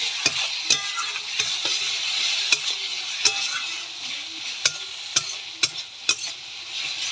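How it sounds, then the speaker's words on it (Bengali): A spice paste with tomato is stir-fried in a pan, with a constant close sizzle and sharp, irregular spatula knocks and scrapes against the pan every second or so. "ভালো করে মশলাটাকে কষাবো"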